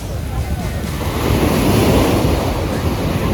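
Ocean waves wash onto a beach at sunset, a broad rushing roar that swells midway, with low wind buffeting on the microphone throughout.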